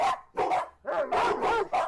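Dogs barking close and loud, several sharp woofs in quick bursts with a short gap, no talk over them.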